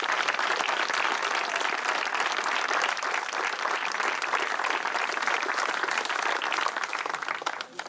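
Loud, sustained applause from an audience fills a sports hall at an inauguration celebration, a dense continuous wash of many hands clapping at a steady level without pause.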